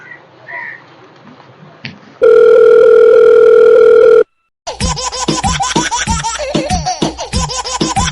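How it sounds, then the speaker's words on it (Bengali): A telephone dial tone sounds as a call is placed: a steady, loud electronic tone holds for about two seconds, then cuts off, followed by busy laughter-like chatter and bird-like sounds. "ফোন লাগাও ঠিক আছে"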